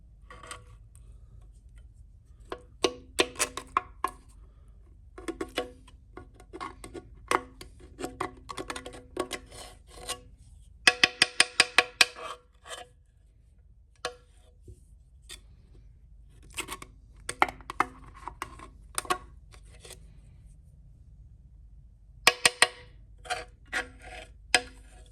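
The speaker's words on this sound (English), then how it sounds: "I'm gonna take a putty knife and I'm gonna scoop this stuff out" A putty knife scraping crud out of the oil pan on a 2005 Chevy Silverado, heard as close, sharp scratching strokes in irregular clusters separated by quiet pauses.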